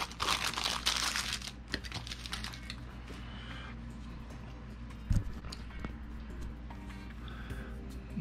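Packaging being torn and crinkled open around a graded trading card slab, a burst of loud close crackling at the start followed by softer intermittent rustles and small clicks.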